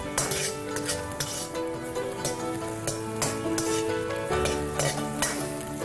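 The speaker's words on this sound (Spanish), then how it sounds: "En el mismo aceite vamos a sofreír un poco el puerro y el jengibre" Leek and ginger sautéing in oil in a wok, bright crackling sizzle with repeated clinks of a utensil stirring against the pan, close and continuous, no talk.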